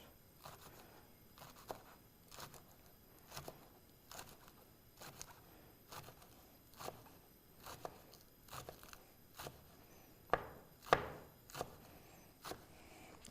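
A knife slices green onions very thinly on a cutting board, giving a steady series of soft, crisp chops spaced roughly evenly and heard close and quiet, with a couple of sharper cuts near the end.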